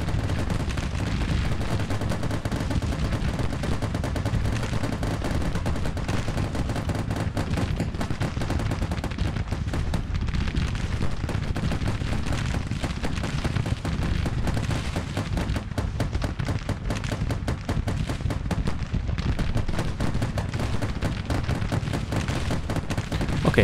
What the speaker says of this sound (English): Machine gun noise is quite irritating.